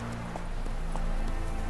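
Hoofbeats of a horse in The Witcher 3 on PlayStation 4, a quick run of clip-clop thuds under steady game ambience, fairly close, with no talking.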